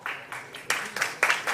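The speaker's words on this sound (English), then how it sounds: "let's treat her with a round of applause" An audience at a conference session on AI startups breaks into applause, a short burst of clapping rising in uneven waves with a voice over it.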